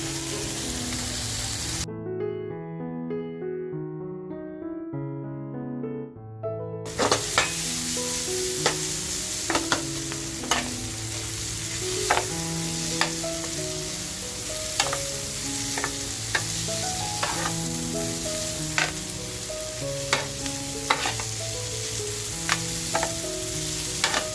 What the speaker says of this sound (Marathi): आता जे आपण रिंग्स तळून घेतले होते ना ते रिंग्स टाकून घेऊया